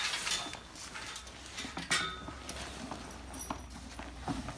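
Horse hooves clip-clop in an uneven, scattered rhythm near a truck, with sharp little knocks over a quiet background. No one speaks.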